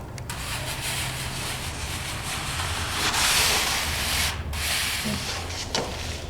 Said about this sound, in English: taking the edge of the trowel, flattening it out, making a smooth surface which presses down the rock